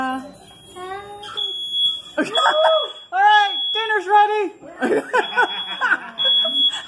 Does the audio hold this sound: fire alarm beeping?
yes